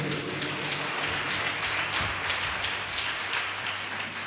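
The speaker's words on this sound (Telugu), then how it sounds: "గట్టిగా చప్పట్లు కొట్టండి." A church congregation at a Sunday worship service claps loudly and steadily, dense sustained applause filling the room throughout.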